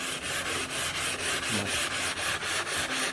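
Sharpening stone edges being rounded off by rubbing them against a coarse Atoma 400 diamond plate, giving a steady, close, loud abrasive scraping in regular back-and-forth strokes with no talk.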